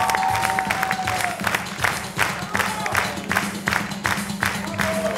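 Audience applause on a live Armenian comedy show stage, a steady wash of clapping filling the clip under background music and a brief voice.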